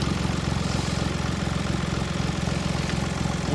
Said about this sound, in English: I'm going to shut my tractor off.